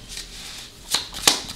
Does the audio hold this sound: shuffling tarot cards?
yes